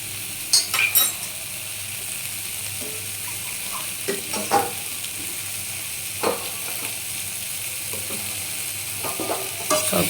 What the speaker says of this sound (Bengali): এই দেখো আমার কষানো হয়ে এসেছে।